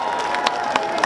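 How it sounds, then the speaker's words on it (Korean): Applause and cheering from a concert crowd at an outdoor arts festival in Cheongju, steady and moderately distant, with a few brief louder peaks. "다시 한번 큰 박수 보내주시기 바랍니다"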